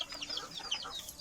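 Backyard chickens at feeding time give a short burst of quiet clucks and soft rising peeps, faint and close together, with no talk over them.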